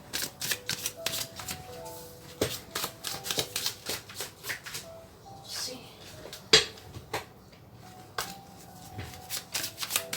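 Tarot cards shuffled by hand in quick repeated riffles and snaps, close and crisp, with brief pauses between bursts and no talking.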